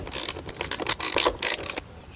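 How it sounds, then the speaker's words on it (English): A socket wrench ratchets bolts on grab bars being fitted to a Jeep Wrangler TJ, making rapid bursts of close, crisp clicking in uneven strokes. "and then I will take my socket wrench,"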